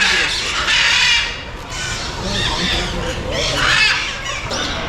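Many birds at Alipore Zoo in Kolkata squeal and caw in dense overlapping calls. The chorus is loud and continuous, with distant crowd noise under it.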